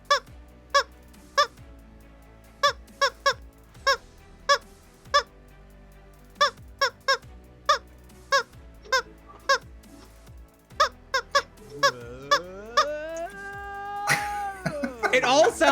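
A person clucks like a chicken in short repeated bursts to imitate a song's melody, building into a faster, louder run with rising pitch near the end.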